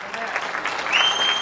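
An audience clapping at a gathering, a short burst of dense applause with a voice faintly mixed in.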